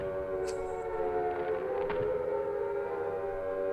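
Air-raid sirens in the video game Silent Hill, a sustained wailing drone with low, ominous harmonics that holds steady and quiet throughout, with a faint metallic clank near the start.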